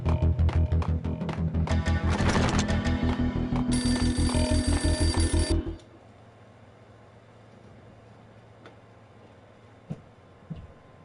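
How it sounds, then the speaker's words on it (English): A ringing telephone in the Max Payne video game, a beaten-up phone in an entrance hall, sounds a loud rapid bell trill for about five seconds alongside other game noise, then cuts off, leaving quiet ambience with a couple of faint knocks. "A beaten-up phone in the entrance hall was ringing."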